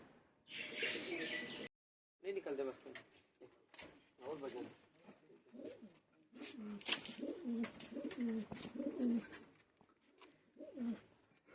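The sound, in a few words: pigeons cooing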